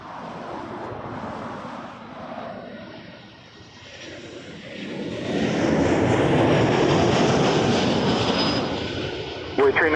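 An airliner arriving at Toronto Pearson airport roars in, the jet noise dipping briefly before building to a loud sustained rush in the second half, with a faint voice early and a short clatter near the end.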